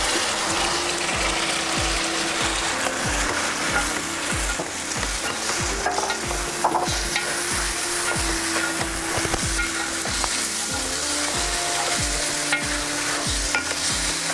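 Chicken pieces fry and get stirred into onion masala for a Telugu chicken curry, the loud continuous sizzle broken by rhythmic scraping and clacking of a spoon against the pot, close and with no talk.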